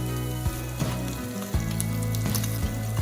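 Red Thai chili peppers sizzling in a hot pan, a loud, steady close-up frying hiss with occasional pops and crackles, no talking.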